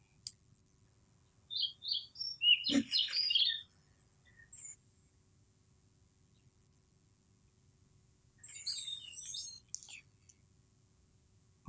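Cartoon bird chirps used as sound design for an animation, two quiet bursts of quick high tweets, one around the second to fourth seconds with a small pop, another later, over near silence.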